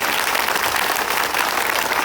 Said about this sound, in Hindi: जोर से ताली बजा दो प्रभु के लिए, जोर से।